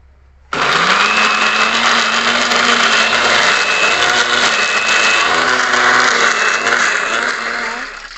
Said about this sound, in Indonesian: Berikutnya kita blender sisa bawang tadi, ketumbar, kemudian jahe